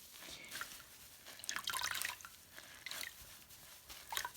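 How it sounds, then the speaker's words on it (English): Water drips and trickles from a wet-felted knitted wool hat being squeezed by hand, soft irregular patters in a quiet room with a louder burst midway. "Okay, so I just take the hat and squeeze it, but I don't squeeze it dry."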